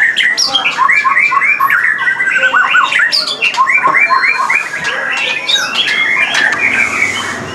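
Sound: white-rumped shama (murai batu) songbird calling

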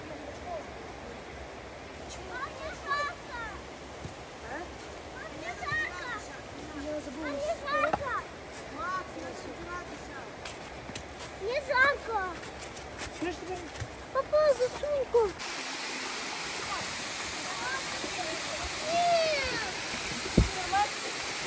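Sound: waterfall in a South Carolina park

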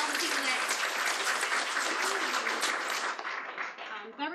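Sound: applause

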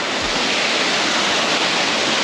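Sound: small waterfall

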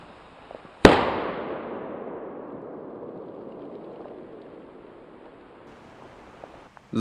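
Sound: WECO Bombastica firecrackers exploding

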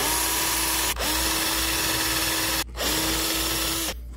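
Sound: diamond sharpener on drill grinding chainsaw cutters

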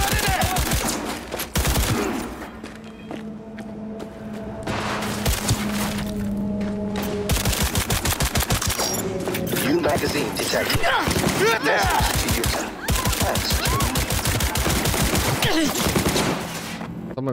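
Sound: gunfire in Cyberpunk 2077 video game

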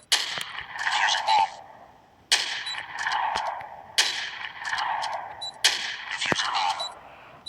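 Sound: AWM rifle gunshots in video game

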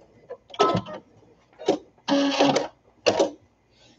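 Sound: sewing machine back and forth stitching baby sunsuit

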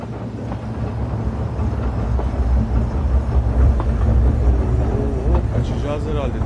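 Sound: train moving in the video game El Hijo

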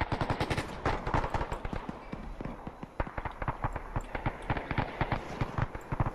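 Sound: gunfire in the video game Arma 3

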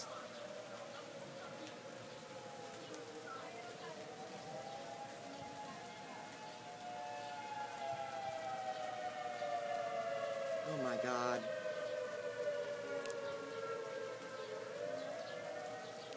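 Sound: tornado sirens during rainstorm

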